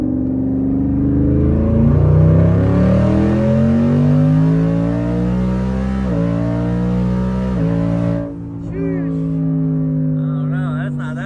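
Twin-turbo 5.0 V8 in a 2020 Ford F-150 pulls hard under acceleration, its engine note climbing steadily through the gears with a brief shift dip, loud and close from inside the cab.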